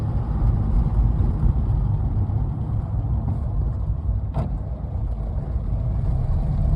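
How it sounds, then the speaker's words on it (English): A 1958 Wolseley 1500 classic car engine hums steadily at a low, even drone from inside the cabin, running alone without talk apart from one brief click. "That sounds really sweet, the engine,"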